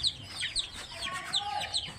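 Chickens and young chicks on a small farm cluck and cheep in repeated short calls, with higher peeps scattered over lower hen clucks, close and moderately loud with no talking.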